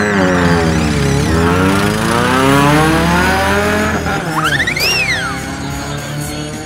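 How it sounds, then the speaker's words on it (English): Race car engines roar and rev loudly together at the start, their pitch sweeping up and down, before a sharp tire squeal rises near the end. "Racers, start your engines."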